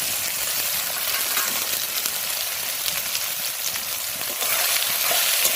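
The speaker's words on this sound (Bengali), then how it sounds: "আর এই যে কড়াই তেল দিয়ে দিয়েছি, আর এই যে দেখো সয়াবিনটা ভাজতে দিয়ে দিলাম।" Soya chunks fry in hot oil in a wok, giving a continuous close crackling sizzle with scattered sharper pops and no voices.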